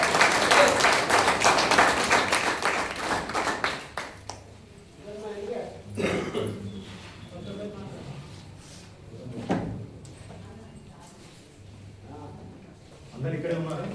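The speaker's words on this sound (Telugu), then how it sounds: "సో మీ అందరికీ ఒకసారి గట్టిగా క్లాప్స్." Audience at a health session clapping loudly together, a dense burst of applause that fades out over a few seconds, followed by someone talking.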